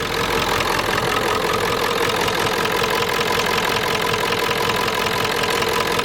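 A steady, rumbling farm vehicle engine idles on and on at close range, loud and even with a faint knocking pulse, no voices.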